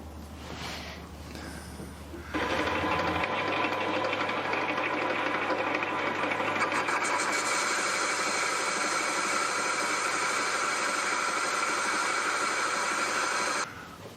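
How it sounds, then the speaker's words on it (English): Metal lathe with a D1-6 spindle mount and a faceplate, a boring bar cutting inside the bore: a steady, loud machine drone with a bright high-pitched cutting whine, running continuously for about eleven seconds before stopping. "So let's get a boring bar in there."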